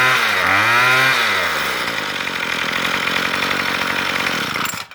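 Troy-Bilt weed eater with a faulty carburetor that bogs down, its small two-stroke engine revving loud and close, pitch swooping up and down at first, then holding a rough, high buzzing whine before cutting off abruptly.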